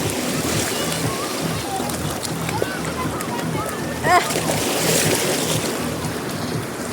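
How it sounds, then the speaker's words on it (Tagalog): Ocean waves wash steadily at a beach, a continuous hiss of surf close by, while people talk and exclaim over it. "Tingnan na, nagkaroon may waves."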